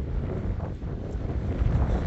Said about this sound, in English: certainly windy